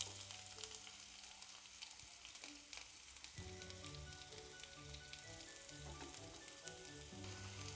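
Chopped onion and green chillies fry with popped mustard seeds in hot oil, a soft, steady, close sizzle with light crackling throughout.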